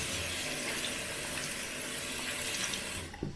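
Warm water runs steadily from a tap into a bathroom sink as a washcloth is soaked beneath the stream, a close, continuous hiss and splash that cuts off abruptly near the end.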